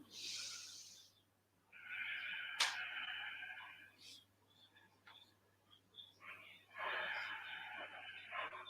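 Slow, deep breaths drawn in and let out during a restorative yoga session, a few long airy inhales and exhales with quiet pauses between them, close and soft.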